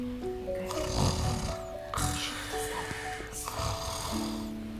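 A person imitating snoring, repeated rhythmic snorting breaths at a moderate level over a murmur of background chatter and tonal music.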